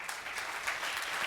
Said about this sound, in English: Sorry, I didn't mean to step on Jody's applause.